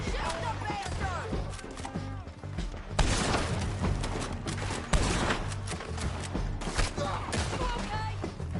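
Gunfire in the Western video game Red Dead Redemption: repeated shots and booms crack out through a dense, busy game mix, with music and talk layered throughout.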